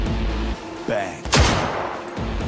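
Bursts of rapid gunfire in the video game Cyberpunk 2077 crackle amid a loud game soundtrack, including a sharp close volley near the middle, with some in-game voice effects mixed in.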